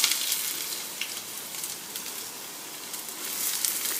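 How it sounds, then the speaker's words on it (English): Onions fry in hot oil in a pan, giving a soft, continuous sizzle with faint crackles and pops, quiet and steady with no talk. "Let the onions cook for a while."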